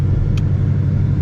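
A 900-horsepower Ford Mustang with a stock motor and stock transmission cruising at night, its engine a loud, steady low rumble heard from inside the car with no voices.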